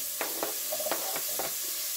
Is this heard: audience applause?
no